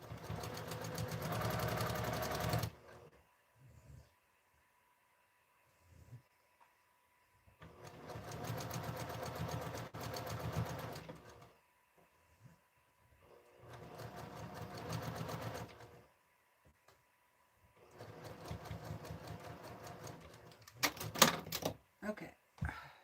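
A sewing machine stitches fabric scraps for a quilt in four long runs of steady, rapid mechanical chatter separated by pauses, with someone talking quietly between runs.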